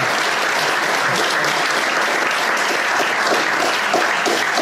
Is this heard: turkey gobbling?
no